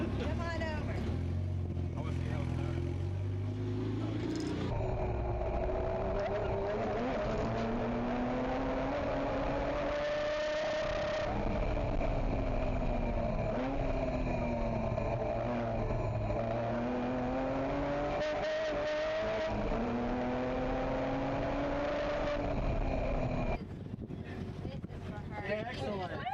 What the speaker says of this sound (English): I'm about to ride with the race car driver himself.